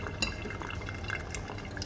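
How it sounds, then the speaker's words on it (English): Filtered water pours over broccoli sprout seeds in a jar, a soft, steady trickle and splash close by, quiet and continuous with faint glassy drips. "I'm just going to completely cover that with some filtered water"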